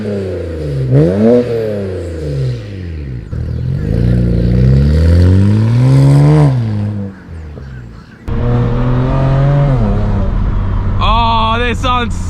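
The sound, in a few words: BMW 335i turbo sound while accelerating with VRSF exhaust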